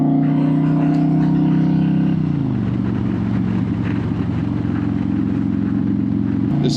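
A Harley-Davidson touring motorcycle pulls away from a light in first gear, its loud, close engine rumbling steadily before the pitch drops at a gear change and the rumble carries on.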